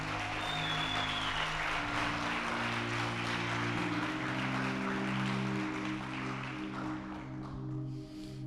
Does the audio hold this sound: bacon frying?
no